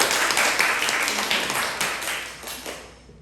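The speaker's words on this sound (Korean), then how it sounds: "다 같이 박수로 환영하겠습니다." A lecture audience applauding in welcome, a short burst of dense clapping that gradually thins and fades over a few seconds.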